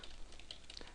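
A computer keyboard clatters with quick, light keystrokes in an irregular patter, close and fairly quiet against a faint background hiss.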